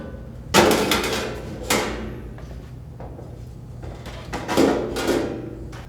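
Metal deep fryer pans sliding out of the housing of a Hopekings professional-style dual-basket deep fryer, giving a few sharp scraping clunks and knocks close by, spaced apart with quiet gaps between them.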